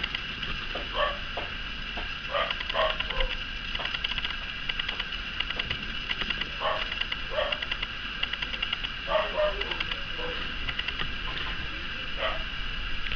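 A cocker spaniel barks repeatedly in short bursts at a moderate distance at workers downstairs, with irregular pauses between volleys over steady background hum.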